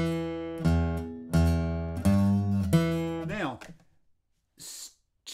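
Blues guitar riff with a string bend: a few plucked note clusters ring out in a steady rhythm, one pitch audibly bending upward before fading to near silence, with a brief breathy noise at the end.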